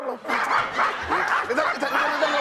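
A man imitates a dog with a run of yelping, whimpering bow-wow barks, loud and close, in a comedic indoor scene with a little laughter.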